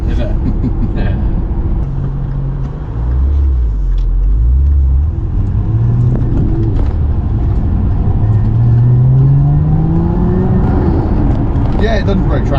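A Lotus Emira sports car accelerating on a local racetrack, its engine note rising steadily in pitch with a steady rumble, heard from inside the car while occupants talk.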